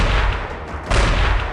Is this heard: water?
no